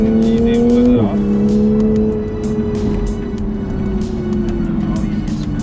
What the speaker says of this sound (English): Oh yeah, Spinning tires. that feels so nice.